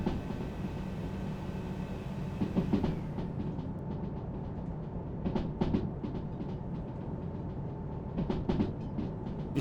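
A train in the Derail Valley video game runs at full throttle with a steady rumbling drone and a few louder rail clacks, heard at a moderate distance and alone.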